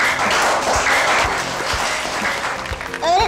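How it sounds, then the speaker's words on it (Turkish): Children in a classroom clap for a classmate in a loud, brisk burst of applause with scattered individual claps. A voice speaks briefly over the tail end. "Çocuklar, Elif arkadaşınızı alkışlayalım mı?"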